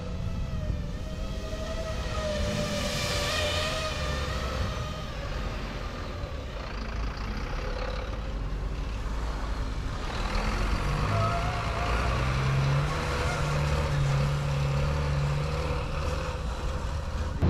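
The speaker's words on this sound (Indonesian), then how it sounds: "mencoba truk Axor Euro 4 yang akan diluncurkan oleh Daimler Commercial Vehicle Indonesia" Mercedes-Benz Axor Euro 4 truck at a test track in BSD, Indonesia, its engine giving a steady, loud rumble throughout with a whining tone rising and falling near the start and a low hum emerging toward the end.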